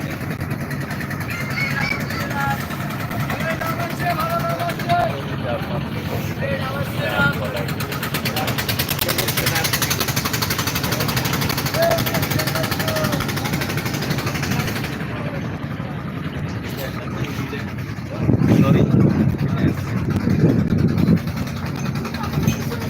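A ship's engine drones steadily as the vessel cuts along a river past other ships and boats, a continuous low rumble with broadband wash that swells louder near the end, with voices faintly mixed in.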